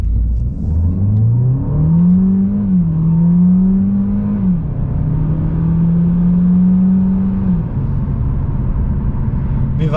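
A 2020 Mercedes-Benz CLA 250e hybrid accelerates hard from a standstill toward 100 km/h, its engine note climbing steadily through a long, loud pull, dipping briefly at a shift, then holding a high, even drone.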